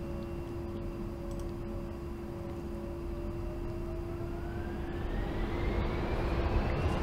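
An A-10C II jet takes off in the DCS World flight simulator, its engines droning steadily with a rising whine that climbs in pitch as the aircraft accelerates, loud and continuous without talk.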